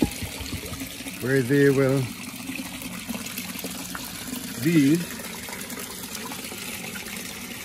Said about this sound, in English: So I'm filling up the tank